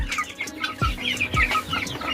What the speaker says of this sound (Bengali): এই যে দেখতে পাচ্ছ যে মোরগ আর মুরগিগুলো এদের ছেড়ে দিয়েছি